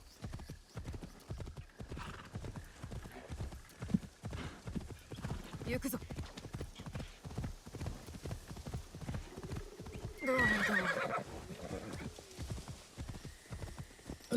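Horse in the Assassin's Creed Shadows video game, steady clip-clop hoofbeats at a brisk rhythm with a brief whinny midway, heard under a person talking.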